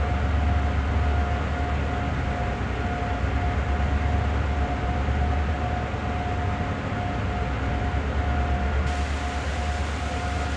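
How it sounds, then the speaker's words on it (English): A long freight train pulls out in the Train Sim World game, with a steady, dense rumble of rolling stock and a thin sustained tone held throughout at an even, loud level. "Now we're pulling that whole thing out of there. Long train. Coming down them tracks."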